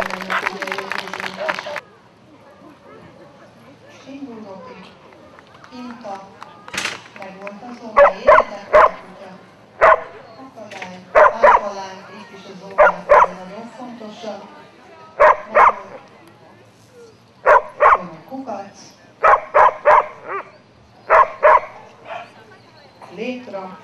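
Dogs bark at an outdoor dog show event with an agility-style course, sharp yips and barks in quick clusters over an announcer talking through a loudspeaker and crowd murmur.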